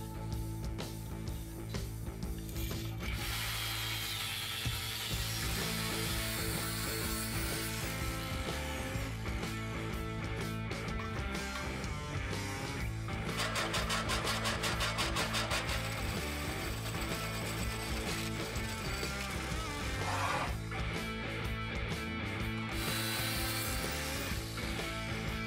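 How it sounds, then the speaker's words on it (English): Cutting a control arm adjustment mechanism part out of steel plate: a steady, continuous grinding and scraping machine noise with a dense buzzing rasp throughout, no talking. "Now we need to cut out the control arm adjustment mechanism from the steel plate."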